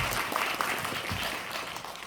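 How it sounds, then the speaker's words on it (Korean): A cinema audience applauds an actor during a post-screening film talk at Cinecube Gwanghwamun: a short, dense burst of many hands clapping at steady volume throughout. "박수 한번 부탁드립니다"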